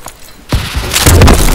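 A grenade goes off in the Advanced Warfare video game: a sudden loud boom after a quiet moment, followed by a dense burst of blast and debris noise.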